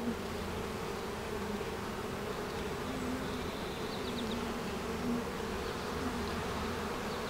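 Honeybees hum densely over an open hive frame, a continuous close swarm drone with individual bees droning past, no voices.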